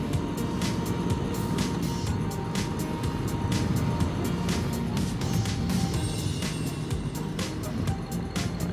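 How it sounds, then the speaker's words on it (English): A 2021 Harley-Davidson Street Bob 114 in Baja Orange rumbles along on a ride, with a steady engine drone mixed with wind noise and scattered clicks, moderately close. "What do you think about the 2021 Baja Orange Street Bob 114? It's got power."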